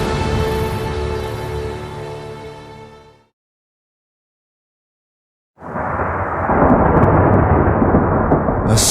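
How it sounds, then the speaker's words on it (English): Rolling thunder and a broad storm roar in a cinematic trailer for the Egyptian war game Total War Pharaoh: a sustained tonal rumble fades to silence, then a loud, dense wash of storm noise swells and holds. "A storm approaches."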